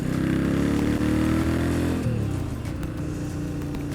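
A 1980 Moto Morini GTS motorcycle engine runs loud and steady close by, its pitch dropping midway as the rider eases off, then settling into a lower, rougher note.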